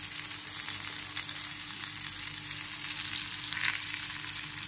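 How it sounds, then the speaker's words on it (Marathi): Brinjal and onion fry in a pan, with a steady, fairly quiet sizzle and occasional faint stirring scrapes, and no voices. "वांगी जर भाजू देतो, वांगी कांदा वगैरे."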